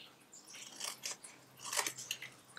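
Scissors snipping through paper squares for a chocolate box craft, several short crisp cuts in two clusters, close and fairly quiet.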